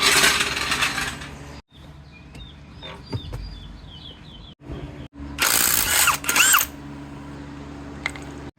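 Tools loosen a wheel on a 2013 Hyundai Santa Fe GLS: bursts of an impact or power tool whirring close, separated by quieter clicks and metallic handling sounds, with birds faintly in the background.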